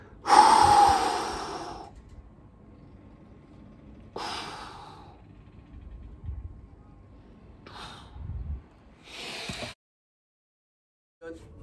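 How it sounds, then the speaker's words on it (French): Close, loud breaths during a breathing and stretching exercise session, a long strong intake followed by several shorter breaths spaced a few seconds apart, then a brief silence. "Puis vous inspirez."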